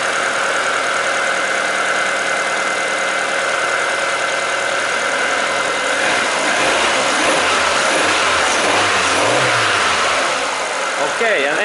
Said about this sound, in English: engine is taking nicely revs